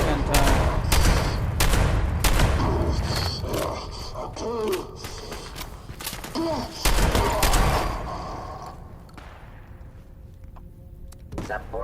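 Shotgun blasts in Fallout 76, a series of loud sharp shots in the first several seconds with mechanical creaks between them, fading to quieter machinery at the end.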